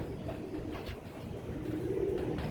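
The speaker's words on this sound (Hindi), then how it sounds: "आज भी आपने जो अली वाले कबूतर दिखाएं" Soft, low cooing of Ali Wale pigeons repeats in a steady murmur, with a fuller cooing swell near the end over faint ambient noise.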